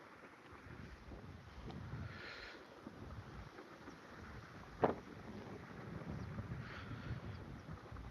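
Wind sweeps across a farm field of tall wheat as a steady, faint rushing roar, buffeting the microphone, with one short thump near the middle and no voices.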